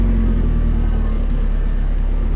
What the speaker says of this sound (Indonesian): Nah itulah yang dinamakan engine brake guys.